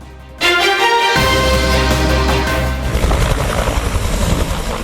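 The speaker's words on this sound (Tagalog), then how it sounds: "when the UA-2 helicopter of the Philippine Air Force once again conducted an aerial search" A Philippine Air Force helicopter on an aerial search for a missing Cessna plane roars loud and close after a sudden start, its engine and rotor noise sustained with a rhythmic beating toward the end.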